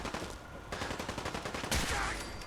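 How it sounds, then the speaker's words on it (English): Gunfire in the video game Fallout 4 in survival mode, a rapid burst of shots rattling at moderate distance, forceful but somewhat muffled, with faint background noise and no talk. "I hear the gunshots."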